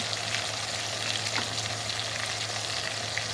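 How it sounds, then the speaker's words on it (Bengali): Chopped onions frying in oil for a village-style country chicken curry, a steady close hiss of sizzling with occasional soft stirring, alone and without voices. "পেঁয়াজ কুচিগুলো হালকা একটু ভেজে বাদামি কালার করে নিব"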